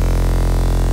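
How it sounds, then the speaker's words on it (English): Dry, unprocessed mid bass synth tone from an FL Studio future rave track, a dense buzzing sustained note held loud and steady for the whole second. "Bass dry, it sounds like this"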